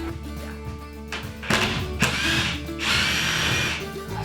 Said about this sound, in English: I'll go get our brand new impact driver.